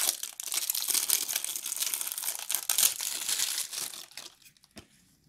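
Plastic wrap crinkles and crackles as a charcoal sharpener is unpacked, busy, close rustling for several seconds that thins out and stops near the end, with one sharp tap at the finish.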